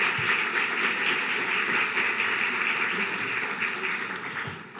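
Sustained applause from a forum audience, a steady wash of clapping held at an even level throughout before tapering slightly at the end.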